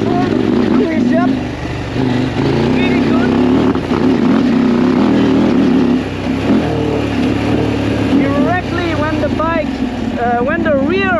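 A KTM 890 Adventure R motorcycle engine, set in rally mode with traction control on, runs loud and close, with the throttle opened twice in rising revs over a steady engine drone.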